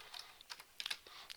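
Key clicks from typing on a computer keyboard, a quiet burst of irregular taps close by, with no voices, during a webinar demo of pipeline integrity mapping software.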